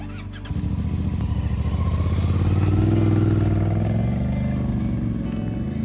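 A CFMOTO 450MT adventure motorcycle starts up and pulls away after a brief click, its engine note rising and thrumming loudly up close before easing slightly as it rides off.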